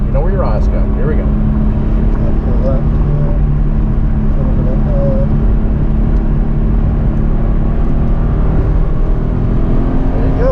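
A car lapping the Summit Point race track brakes into a turn, its engine roaring loud and steady throughout with tire and wind noise, while an instructor talks over the drive.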